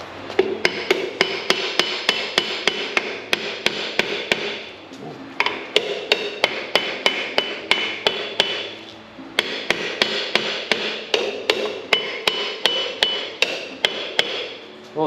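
Old Austin 7 brake parts take a rapid series of loud metallic hammer blows, struck in steady bursts over a continuous harsh mechanical whirr, with one short pause midway.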